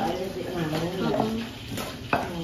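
Young catfish frying in a pan, a steady close sizzle with stirring scrapes and a sharp utensil clack near the end, with faint voices in the background.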